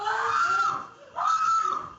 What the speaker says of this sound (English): As screams of terror